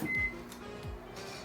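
A microwave oven heating a dessert for one minute: one brief electronic beep, then a low, steady mechanical hum running quietly and evenly nearby.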